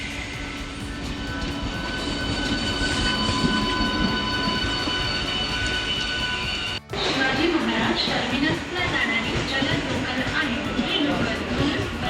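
A train rumbles past at a railway station, a loud sustained roar with metallic ringing tones and a sharp break midway, and a voice is faintly mixed in.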